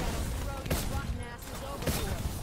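Rapid gunfire from Call of Duty Black Ops 4 Zombies crackles in dense bursts, with a couple of heavier blasts standing out, while players talk over the action.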